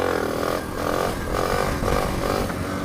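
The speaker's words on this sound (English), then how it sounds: "I'm gonna pull the clutch and rev at the same time and release" Motorcycle engine revving hard up close while the clutch is slipped and released for a wheelie, a loud pulsing drone that surges in repeated waves.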